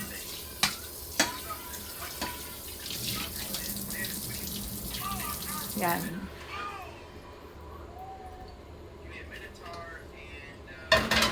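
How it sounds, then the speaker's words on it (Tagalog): A running tap splashes steadily over dishes, pots and pans being washed at a kitchen sink at home, with clinks of cookware and people talking over it before the water eases. "Siya ngayon ang nakatoka na maghugas ng pinggan."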